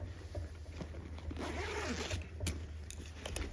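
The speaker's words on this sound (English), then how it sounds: "So if we unzip these side zippers here," A backpack's side zipper is pulled open in a quick rasping run, followed by soft handling rustles and a small click, close and fairly quiet.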